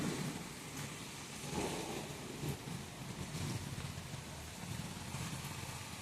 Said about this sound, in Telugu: ఇక్కడైతే గుంటూరులో అయితే ఈ రకంగా వాన కురుస్తుంది